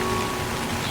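Light drizzle falls steadily on the road toward Talakaveri temple in the Kodagu hills, a soft, even hiss of rain with no talk.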